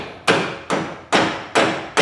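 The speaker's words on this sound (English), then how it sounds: "Put the pin in, tap it into place with the hammer." Five sharp metallic hammer taps drive a pin into an EZGO TXT golf cart spindle during a lift kit install, evenly spaced and close, each ringing briefly before the next strike, with no talking.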